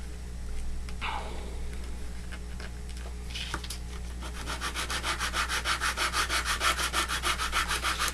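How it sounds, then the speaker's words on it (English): Edges of a model rocket part being sanded by hand, scattered rubs at first, then a run of quick, even back-and-forth strokes that grows louder and more regular, close to the microphone. "I'm going to sand all edges"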